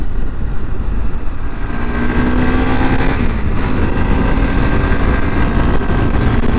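A 2021 Honda CRF300 Rally motorcycle riding along a road makes a loud, steady engine drone mixed with heavy wind rush, and its pitch shifts slightly midway through.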